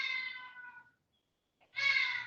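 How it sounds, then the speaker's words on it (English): A cat meows twice with a clear pause between, the first call long and drawn out, the second rising and strained, loud and close in a quiet room during a dumbbell workout. "Oh, the cat is getting desperate."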